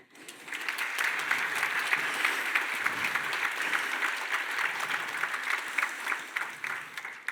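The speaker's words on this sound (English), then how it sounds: "another last round of applause" An audience at a cloud security conference talk applauds, with sustained dense clapping that swells quickly and holds steady for several seconds before tapering, no voices over it.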